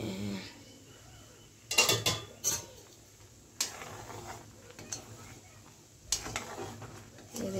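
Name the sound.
covering a cooking pot with a lid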